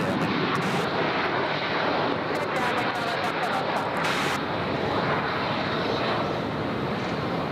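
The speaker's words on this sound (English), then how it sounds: "A320 there from Jetstar, who's getting ready to roll." Jetstar Airbus A320 airliner at an airport, its engines producing a steady, loud broadband roar throughout, with faint voices in the background.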